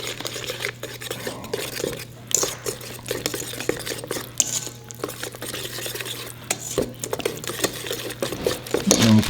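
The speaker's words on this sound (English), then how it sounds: "whisk that together" A whisk beats wet cornbread batter made from box mix in a bowl, producing quick, irregular clicks and scrapes against the sides, close and fairly loud, with no speech.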